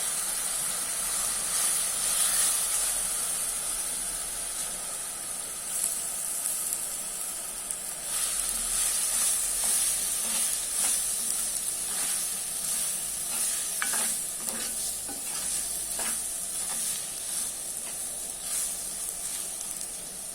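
Pounded cinnamon, cloves and cardamom fry in hot fat in a pan for Sri Lankan yellow rice, giving a steady close sizzle with scraping stirs and clicks, with no talk.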